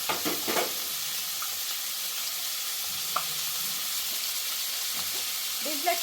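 Coriander seeds and urad dal sizzle steadily in hot oil for a tomato-tamarind chutney in a village kitchen, a close, continuous frying hiss broken by a few soft stirring clicks.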